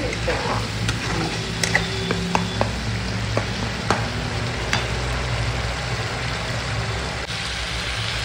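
Chopped onions cook in a pan with a splash of water, giving a continuous bubbling sizzle, and a spoon clicks and scrapes against the pan now and then.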